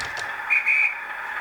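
Guard's whistle sound effect from a model Class 37 locomotive, a shrill sustained tone with two brief louder peaks over steady background hiss, alone and fairly close.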